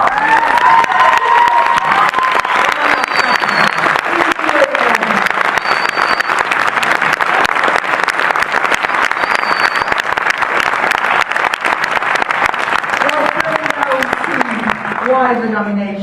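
A studio audience applauds in a steady, loud wash of clapping that runs the whole time, with cheering and crowd noise mixed in and voices talking over it near the end.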